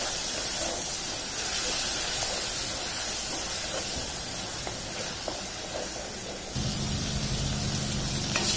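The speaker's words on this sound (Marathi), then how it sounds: "ती सुद्धा छान तेल टिपेपर्यंत आपल्याला इथे परतून घ्यायची आहे" Tomato paste sautéing in oil for bhendi do pyaja gives a steady close sizzle and hiss, unbroken throughout, with a low hum joining near the end.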